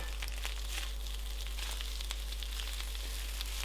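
Spring onions stir-fried into char siu egg fried rice in a hot pan, giving a steady, close sizzle with a continuous crackling hiss and light scraping from stirring throughout, with no voices.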